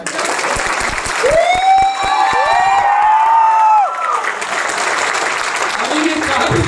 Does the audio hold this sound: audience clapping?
yes